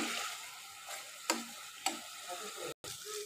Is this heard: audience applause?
no